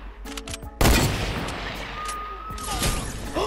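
A hunting rifle shot in Fortnite cracks loudly once, a sharp close blast followed by a long noisy decay, with brief game sounds before it and faint chatter behind.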